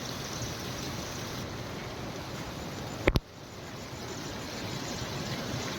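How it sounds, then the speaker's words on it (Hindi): Rainwater gushing out of the ground in a village after heavy rain, a steady close rush of flowing water, interrupted once by a brief sharp double knock before the flow resumes. "जगह जगह पानी निकल रहा है जी,"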